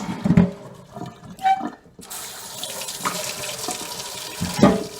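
Water runs from a kitchen tap while a metal pan is rinsed, with an irregular splashing flow, a brief pause, then more running water and a few clanks of the pan, close by.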